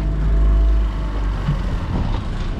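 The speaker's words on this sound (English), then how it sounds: "Where it's just idling." A 90-horsepower outboard motor on a 2007 North River 17 Bay Hawk boat settles into a low, steady idle after the throttle is cut back, loud and close with no talk.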